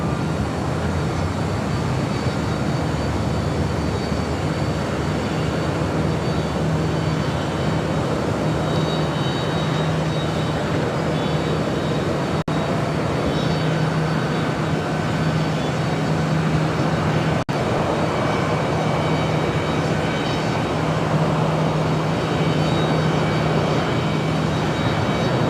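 Emirates jet taking off at LAX, a loud, continuous broadband engine roar that stays steady and close for a long stretch with no talk.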